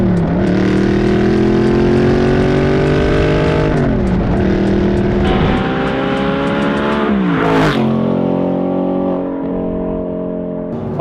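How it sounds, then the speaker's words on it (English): Audi R8 fitted with a titanium Quicksilver exhaust, heard as a loud, continuous engine roar close by, with rising and falling revs and sharp throttle blips. "how much this titanium Quicksilver exhaust has truly transformed my Audi R8"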